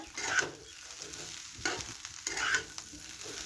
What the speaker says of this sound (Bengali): এবার আলুগুলো দিয়ে দিচ্ছি।